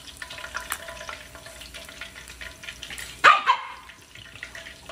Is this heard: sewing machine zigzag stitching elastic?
no